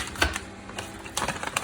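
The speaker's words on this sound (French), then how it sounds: "Je vais couper 100 grammes de chocolat maintenant." A knife chopping dark chocolate into squares on a board for a chocolate cake, several sharp close cuts, an isolated strike followed later by a quicker cluster of taps.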